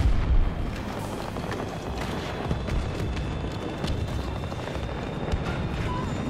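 Heavy booming from a grenade explosion in a war video game, an opening blast followed by continuous rumbling battle noise with scattered sharp pops, loud and dense throughout.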